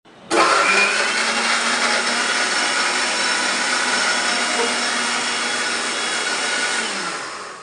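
An electric mixer grinder spins up abruptly and whirs at a steady high-pitched whine for several seconds before starting to wind down near the end.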